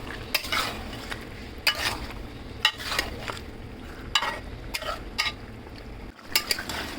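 Chicken pieces being sautéed in spiced masala for a chicken curry, with steady sizzling broken by repeated sharp scrapes and clinks of a spoon stirring in the pan.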